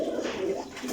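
Large pigeons cooing in a loft of Parwazi flying pigeons, a steady low, throaty murmur from several birds close by with no voices.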